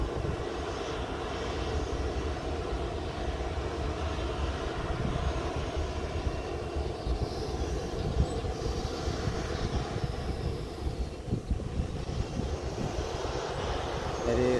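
Steady loud roar of a Lion Air jet airliner engine at Sultan Hasanuddin International Airport, Makassar, continuous and droning throughout, with faint talk underneath.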